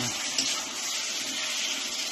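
Water pours into a pan of fish curry, a continuous hiss and splash that holds at an even level for about two seconds.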